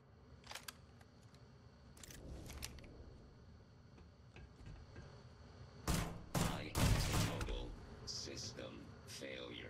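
Pistol gunfire in the space game Starfield: a few sharp broadband shots, the heaviest cluster late in the stretch, set against a steady in-game ambient bed and talk.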